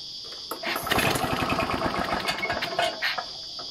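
A Victa two-stroke lawn mower engine is pull-cranked, giving a rapid rhythmic chugging of compression strokes that rises, falters and sputters over several seconds, close and fairly loud, with a steady high whine beneath.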